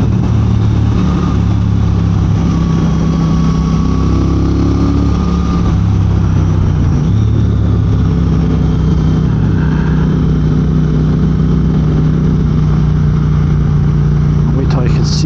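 A Triumph Speed Twin motorcycle engine drones and swells as it revs while riding, loud and close under heavy wind rush, with a voice talking over it.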